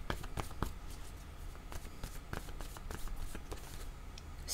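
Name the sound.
shuffling cards to draw a word card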